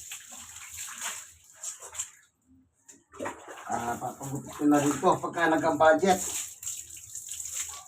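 A dog being bathed with water on a hot day, running water and splashing heard steadily through most of the stretch while someone talks over it.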